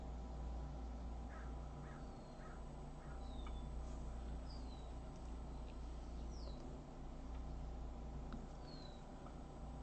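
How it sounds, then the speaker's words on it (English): An unidentified bird calls outside, several short chirps and rising whistled notes spaced across the stretch, faint and distant over a steady low background hum. "Been hearing a funky bird noise lately"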